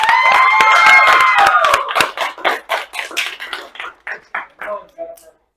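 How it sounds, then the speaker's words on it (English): Theatre cast members at a Honk cast party clap for themselves, a dense round of applause with cheers and voices that breaks after two seconds into scattered, slowing individual claps before dying out. "Give yourselves a round of applause."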